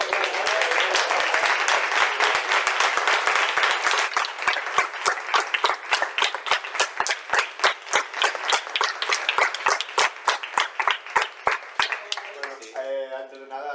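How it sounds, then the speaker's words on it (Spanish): Applause from an audience closing a talk on diversity-phobia in Madrid begins as dense, full clapping, then thins into slower, separate claps before voices take over at the end. "un aplauso"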